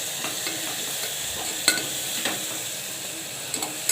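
Ripe green chillies sautéing in a pan for a gravy, a steady close sizzle and frying hiss broken by a few sharp scrapes and taps of a spoon stirring against the metal.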